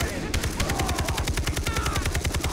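Rapid automatic gunfire in the video game Far Cry 3, a steady fast stream of close, loud shots continuing throughout without pause.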